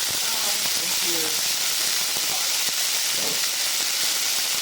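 Chopped green onions frying in oil in a pan, a steady broadband sizzle and hiss running throughout at moderate level, with faint low clatter and murmured speech underneath.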